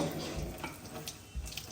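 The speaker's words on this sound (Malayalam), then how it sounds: "നമുക്ക് കുറച്ച് വെള്ളം ഊറ്റി കളയാട്ടോ." Water is poured off from a cooking pot, giving a soft, continuous splashing gush that stays faint and steady for a moment.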